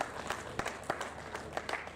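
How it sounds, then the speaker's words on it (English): A conference audience applauds to welcome a panelist on stage, a faint, distant patter of scattered clapping with a few sharper claps standing out. "Can we please keep clapping for him until he makes his way on stage?"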